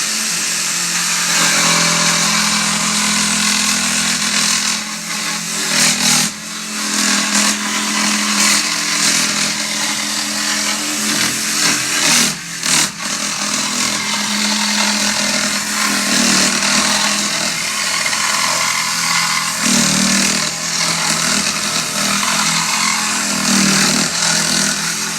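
A power saw cuts a wooden door hanger in a steady, loud, continuous buzzing whine that runs nearly the whole time, with a few brief dips as the blade turns or pauses, and no talking.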